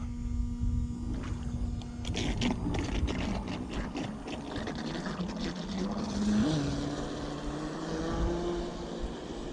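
A small high-pitched brushless electric motor whines and shifts in pitch, with water splashing around it, as a Navicraft Rebel 12S radio-controlled speedboat sets off at low throttle.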